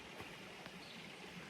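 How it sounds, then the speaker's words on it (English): A small creek runs through a dark little canyon on a forest trail in Alabama, giving a soft, steady babble and trickle with a few faint splashes from nearby small cascades. "hear the water running"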